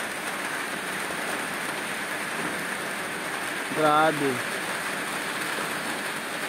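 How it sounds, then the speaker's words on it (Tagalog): Sudden daytime rain on a farm, a steady broad hiss of falling drops throughout, with a brief voice exclaiming once partway through. "Dito sa amin, biglang ulan lang."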